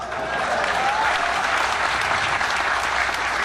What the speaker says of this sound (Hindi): PTCL के वास्ते ताली बजाइए